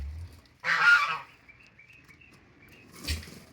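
Turkey hens on a poultry farm give a loud honking call, then a second shorter call about two seconds later, with faint background noise between them.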